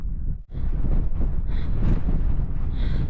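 Strong wind buffets the microphone at about 4,000 metres altitude near the Uyuni salt flats in Bolivia, a loud continuous roar with gusty surges and a brief dip partway through.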